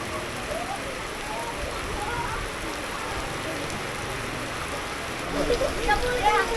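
Steady rain hisses throughout, a dense, even patter that swells slightly louder near the end.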